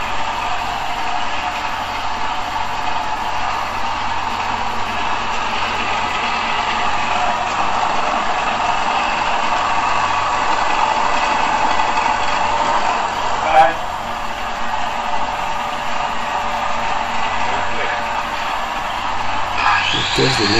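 A free energy generator runs with a steady, even mechanical hum and a broad whirring drone that holds throughout, with one brief knock midway.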